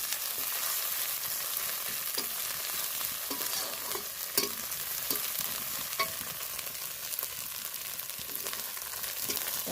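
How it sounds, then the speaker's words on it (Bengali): Continuous crackling sizzle of spice paste with red chilli powder frying in hot oil, with occasional spatula scrapes, steady and fairly quiet, no voices. "ভালো করে লাল করে মশলাটা ভেজে নেব"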